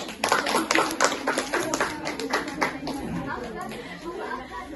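Children in a classroom clap for a classmate, a burst of uneven hand claps close by with chatter and a voice underneath, fading into scattered claps.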